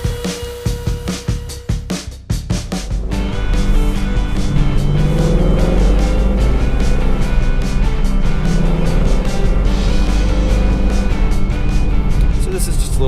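A Mustang convertible drives with the top down on a warm-up run, its engine a steady near hum under loud wind and road noise, with some irregular thumps at the start.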